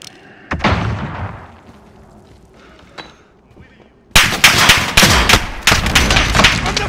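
Call of Duty: Modern Warfare gunfire, with a few isolated cracks over a quiet stretch before an abrupt, loud burst of rapid shooting that runs to the end.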